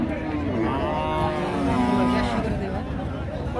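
A big Friesian dairy cow, about eight months pregnant with six teeth, moos in a long low drawn-out call at the Raniganj cattle market in Dinajpur, over steady crowd chatter.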